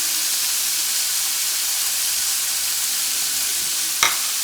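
Bacon fries in a pan with a steady, loud, close sizzle and crackle, broken by a single brief tap near the end.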